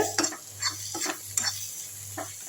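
Curry leaf and garlic pickle being sautéed in oil, several close scraping stirs of a spoon in the pan over a soft, steady sizzle, with no voices.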